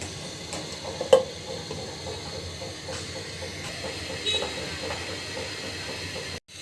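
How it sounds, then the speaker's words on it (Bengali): A small-fish, potato and eggplant curry begins to boil in a covered pot, giving a faint, steady steam hiss with a few soft clicks and bubbles. "বলক ওঠা শুরু করেছে।"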